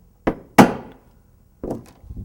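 A rubber mallet knocks an old primer out of a spent cartridge during ammunition reloading, giving three sharp, close thunks with short pauses between them.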